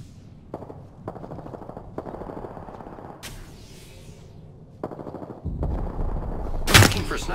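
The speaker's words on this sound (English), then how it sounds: "They're shooting at me." Gunfire in the video game Apex Legends: several bursts of rapid automatic shots at moderate distance, separated by short pauses, building to a louder, closer volley near the end, with faint talk in the background.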